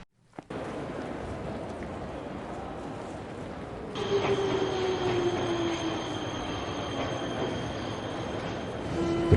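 A train rumbles along the rails in a video game, a continuous rolling roar that grows louder midway, with a thin wheel squeal riding on top.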